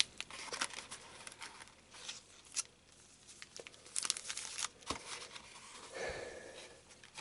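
Yu-Gi-Oh booster pack foil wrappers crinkle and tear open up close, with bursts of crumpling, ripping and rustling scattered through the stretch and no talking.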